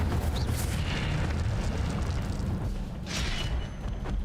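Incendio fire spell cast in the Hogwarts Legacy game, a steady low roaring rumble of flame with a brief brighter whoosh near the end, loud and continuous with no talking.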